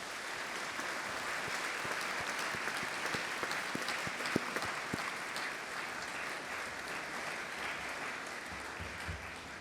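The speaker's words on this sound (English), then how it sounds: "perhaps the graduates would just like to join me in clapping to thank their families for all the support they've been given" Graduates at a University of Manchester degree ceremony clap steadily to thank their families, a dense, sustained round of applause filling a hall at even loudness without talk.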